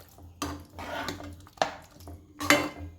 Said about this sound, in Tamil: இப்போ சிம்மிலேயே இது வந்து ஒரு 5 மினிட்ஸ் அளவுக்கு கிளறி விடலாம்.